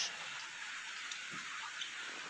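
Light to moderate rain falling in Cumilla, a steady soft hiss of drops on surfaces with scattered faint patters, no voices.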